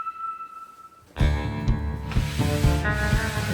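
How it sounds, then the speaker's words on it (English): An oak kitchen worktop is hand sanded with extra fine sandpaper, giving a close, steady rubbing that starts abruptly after a quiet second and continues in short strokes. "I gave it a light rubbing with some extra fine sandpaper."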